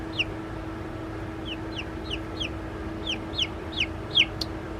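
A mother hen clucks in a rapid series of short, repeated calls, fairly close over a steady low background hum.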